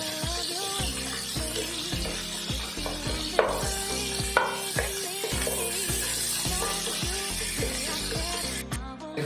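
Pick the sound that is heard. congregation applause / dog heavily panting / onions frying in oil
onions frying in oil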